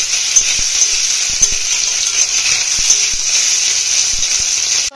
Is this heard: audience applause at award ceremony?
no